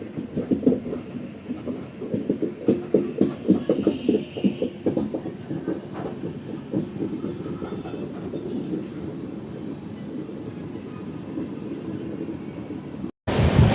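Secunderabad to Rajahmundry passenger train running along the track, a loud continuous rumble with rhythmic clickety-clack of wheels over rail joints, steady throughout before a brief cut at the end.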